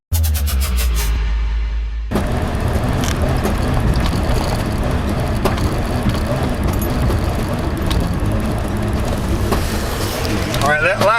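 Car engine idling rough and misfiring from lost spark, a loud steady uneven chugging after a short mechanical buzz at the start, running throughout with no voices.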